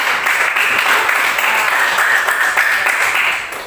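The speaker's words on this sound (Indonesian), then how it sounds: "mari kita berikan aplaus dulu kepada kelompok kita ya" An audience claps steadily and loudly for a student group after its presentation in a classroom teaching session, dense applause holding at a constant level before easing off at the end.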